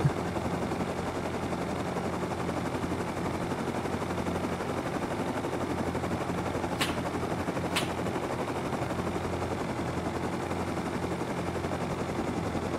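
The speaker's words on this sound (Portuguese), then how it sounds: "Quem é o bestão que tá atirando em mim, mano?" Gunfire in the Rust survival game: a constant rapid rattle of automatic fire sits at a moderate level throughout, punctuated by two sharp, distinct shots in the middle.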